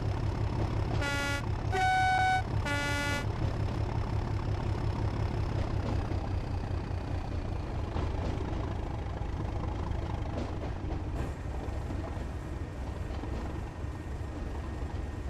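An English Electric diesel locomotive engine thrashes on a railtour, a loud steady low rumble throughout, with a few short horn-like toots early on.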